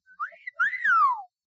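A short two-part whistle from a person: a brief rising note, then a longer sliding tone that swoops up and falls away, clear and close.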